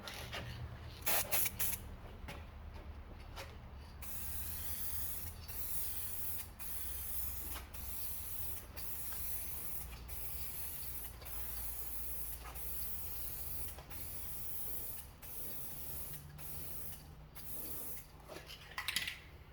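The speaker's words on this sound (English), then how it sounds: "So now we're gonna spray paint it." Short hissing bursts from a spray can painting a car headlight repeat every second or two, with a few quick rattles and clicks near the start and end.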